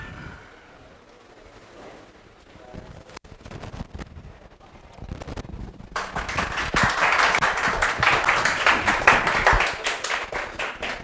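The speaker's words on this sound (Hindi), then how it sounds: "जोरदार तालियां।" Applause from a crowd for a student being recognised for selection, starting as scattered claps and swelling into loud, sustained clapping for several seconds.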